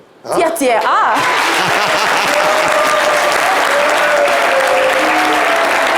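Studio audience applauding a guest on a live French-language variety show, a dense steady wash of clapping that swells in quickly and holds loud, with brief whoops and voices cutting through near the start.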